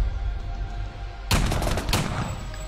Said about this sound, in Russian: Попробуем снайперкой.